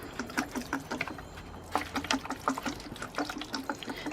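Water sprinkles from a perforated bottle in quick, rhythmic spurts, splashing softly onto the soil of pepper seedlings nearby with no talking.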